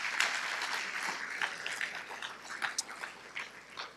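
Audience applause at the 2024 Sages Over 70 honoree event in Des Moines, a steady wash of many hands clapping that holds its level for several seconds, with a few sharper individual claps poking out.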